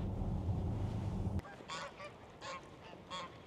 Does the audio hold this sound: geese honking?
yes